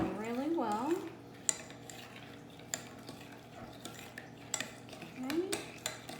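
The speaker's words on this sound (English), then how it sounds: "You want to make sure you have it stirred in really well." Brown sugar and honey being stirred into melted melt-and-pour soap base, with repeated clinks and scrapes of a utensil against a container close up and no talk.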